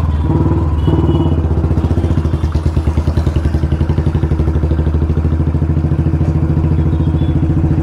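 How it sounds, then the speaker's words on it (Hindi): Royal Enfield Bullet 350 motorcycles racing side by side, a steady thumping single-cylinder engine note revving loud and close throughout, with a rhythmic pulsing beat and no talk over it. "पुरानी बुलेट वर्सेस नई बुलेट"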